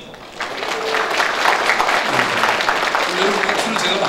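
Audience applause fills a book launch event, a steady wash of clapping from a crowd that swells after a brief quieter start and holds at an even level throughout.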